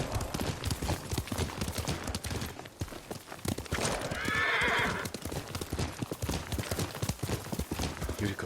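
A horse in the video game Ghost of Tsushima lets out a loud, drawn-out whinny midway through, set against steady clip-clopping hooves and ambient game sound.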